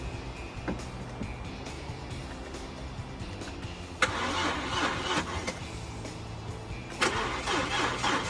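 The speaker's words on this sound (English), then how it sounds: "Now we're going to start the car." An Audi A4 with its radiator disconnected during a front-end repair, its engine cranking and catching at four seconds, then settling into a steady idle, with a second burst of revving near the end; heard fairly close in a workshop.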